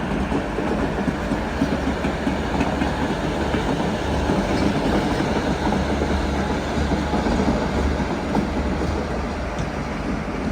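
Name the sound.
Guruvayur Chennai Egmore Express train arriving at platform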